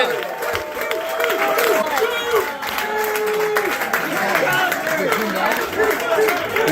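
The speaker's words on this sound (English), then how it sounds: "People are chanting." Crowd noise at a comedy show as a comedian comes on, with loud, continuous audience clamour, chanting and scattered clapping throughout, and voices mixed in.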